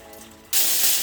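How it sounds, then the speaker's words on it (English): Water pours into a pan from the side halfway through while making Nigerian moi moi, a sudden steady rushing splash that continues at a constant level to the end. "I'm not pouring water here. I'm pouring water from the side."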